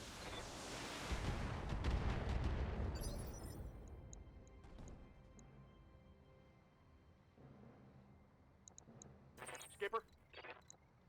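Battletech mech weapons firing, a burst of rumbling, crackling impacts that swell and fade over a few seconds, followed by quieter mechanical sounds and a few short sharp blips.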